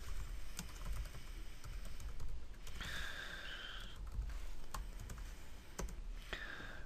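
Close typing on a computer keyboard while writing code, irregular bursts of key taps with louder spaced strikes, quiet and with no talking, over faint room noise and a soft sigh.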